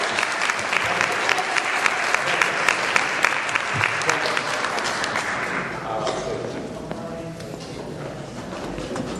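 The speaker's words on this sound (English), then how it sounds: "That applause is not enough." Applause from an audience at a Hindu temple event, dense and steady clapping through most of the stretch, then thinning toward the end as a voice comes in.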